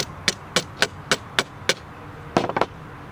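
Plastic corner piece lightly tapped into an aluminum bracket during greenhouse roof window assembly, a series of about six evenly spaced sharp taps followed by a quick cluster of three or four more, close and clear.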